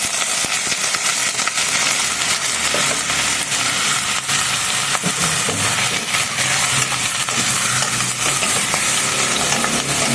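Squid sizzles and fries steadily in a pan while being cooked for adobong pusit, a dense continuous crackle with occasional stirring clatter and no talk.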